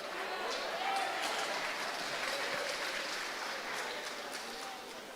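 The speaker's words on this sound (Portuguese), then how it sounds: "Eu gosto das palmas," A church congregation applauds during a sermon, a steady, dense wash of many hands clapping that carries on without a break, with no clear speech over it.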